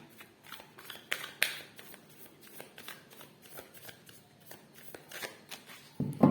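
Tarot cards shuffled by hand during a Sagittarius reading, a soft papery riffling in repeated bursts, close and fairly quiet, ending with a louder flurry.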